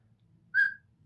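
A single short whistle rings out from a spectator in the crowd at a darts match, bright and steady for about a quarter second over a low hum of background noise.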